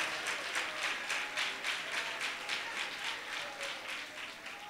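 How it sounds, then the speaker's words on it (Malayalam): A church congregation claps together in praise, a steady, dense patter of many hands with rhythmic swells, moderately loud and filling the room, with no voices over it. "കൈയടിച്ച് അവന് സ്തോത്രം ചെയ്യാം."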